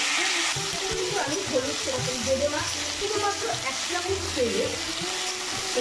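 Dried red chillies and chopped potatoes frying in hot oil in a wok, a bright steady sizzle with bubbling crackles and brief stirring bumps, close and fairly loud.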